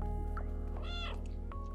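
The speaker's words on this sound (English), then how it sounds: "Can I just meow?" A cartoonish cat meows once, clear and close, in the video game Stray, rising and falling over a steady hum of game music and ambience.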